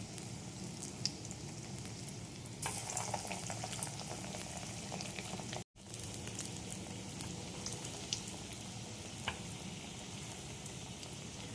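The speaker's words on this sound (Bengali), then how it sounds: "এবার আমি একে একে এই চিকেন বলসগুলো, কাবাবগুলো ঢেলে দেবো।" Chicken kebab balls fry in oil over low heat with a steady, gentle sizzle and faint bubbling crackles, a brief louder burst as more pieces go in and a momentary dropout midway; no talking.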